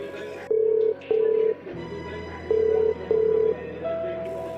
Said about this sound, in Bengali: আচ্ছা ভাই তাহলে আমি ফোন লাগাচ্ছি